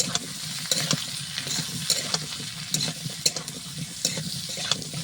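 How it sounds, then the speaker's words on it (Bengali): Eggplant and mixed vegetables with turmeric being stirred in a frying pan, a steady close sizzle broken by repeated scraping strokes of the spatula against the pan. "এগুলো ঢেলে দিয়ে একটু হলুদ দিয়ে লাড়াচাড়া করি"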